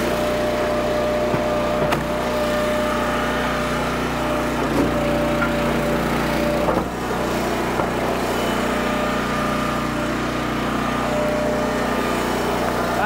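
A Chinese-made firewood processor splitting poplar logs, its engine droning steadily and loud throughout with faint clunks of wood over the constant hum.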